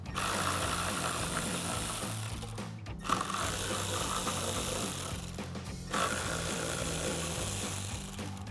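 A power tool with a T25 Torx socket running steadily while it backs out the headlight bracket bolts on a 2019-2024 RAM 1500. The whir is close and continuous, with two brief pauses around three and six seconds.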